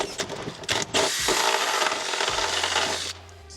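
A power drill bores a hole through the floor of a MAN TGE campervan, giving a close, loud, high whine for a few seconds after some clattering handling, then winding down to a low hum.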